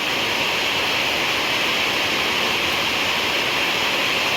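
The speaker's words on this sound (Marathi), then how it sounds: "पाऊस लय कोसळत आहे" Heavy monsoon rain pours down outside a house in a Konkan village, making a dense, unbroken roar of water that stays loud and steady the whole time, with no voices.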